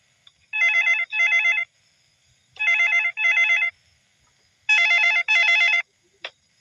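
A telephone rings in three bursts, each a pair of electronic warbling trills with short gaps between, clear and fairly close in a quiet room, ending with a brief click.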